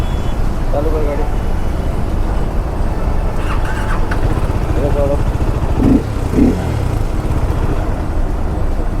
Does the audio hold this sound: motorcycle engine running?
yes